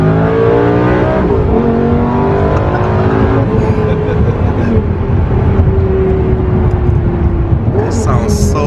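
A Lamborghini Gallardo engine accelerating: loud, steady rising engine roar with climbing pitch through gear changes, heard from inside or close by, with voices talking over it.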